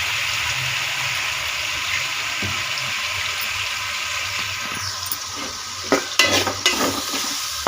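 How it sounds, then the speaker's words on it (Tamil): Ginger garlic paste being stirred into a frying masala of oil, fennel, onion, tomato, cinnamon, cloves and cardamom for a one-pot biryani, giving a steady close sizzle with scraping spoon strokes that grow louder near the end. "இப்போது அரைச்சி வச்ச இஞ்சி பூண்டு பேஸ்ட்டை கலந்துக்கலாம்."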